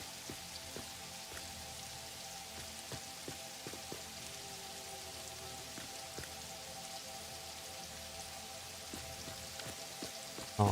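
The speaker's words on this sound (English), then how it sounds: "I hope you like the rain in this game." Steady rain falls in a factory-building video game, a dense, even patter of drops that continues throughout under a faint tonal hum, with no one talking.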